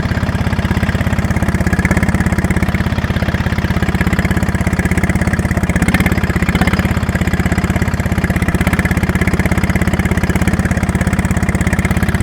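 A tractor engine runs loud and close while ploughing, in a steady, unbroken chug with no voices.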